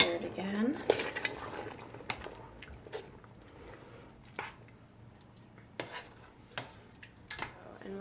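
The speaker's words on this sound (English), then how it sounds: "Just gonna go ahead and add that and stir it again." Split peas being stirred into a Persian lamb stew in a pot, with a few light utensil clinks and scrapes against the pot at intervals over a low steady background.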